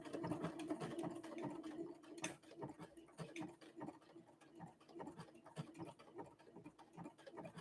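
A Brother Innovis 1500D sewing machine runs a utility stitch at its default width, length and tension, giving a steady, fast mechanical clatter of needle strokes that keeps going, close and moderately loud, with no talking.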